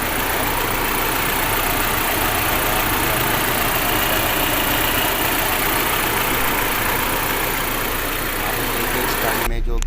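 An Audi A4 engine idles with a cylinder misfire, heard in a repair workshop. A loud, steady, rough rumble drones on for about ten seconds, close to the car, and stops abruptly at the end.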